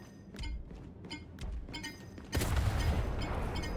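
In Gears 5, a venom bomb ticks with sharp repeated clicks before its heavy explosion booms in, followed by a loud sustained rumble filling the rest of the moment.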